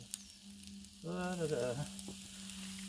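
Shrimp fried rice sizzles on a Blackstone griddle with teriyaki added, a steady frying hiss under a low hum and a brief tonal swell partway through.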